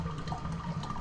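Water drains steadily like a tub emptying, a continuous gurgling rush with faint splashy texture throughout, close and fairly even in level.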